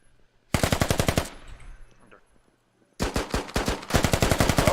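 Rapid bursts of pistol gunfire in a tactical shooter video game, loud and close: a quick string of shots, a pause with faint rustle, then two more rapid volleys, with no talk over them.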